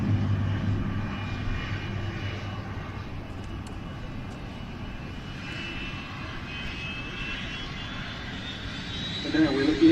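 Aircraft engine roaring steadily overhead at the RAF Mildenhall air display, a broad sustained drone with a slowly rising whine, heard outdoors with speech present alongside it.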